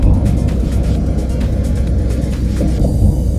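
A Laju Prima bus overtakes on the Semarang–Jakarta toll road, heard as a close, loud, continuous low engine and road rumble with wind noise, steady for a few seconds without speech.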